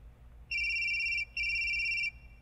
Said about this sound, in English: When receiving a call, a notification sounds.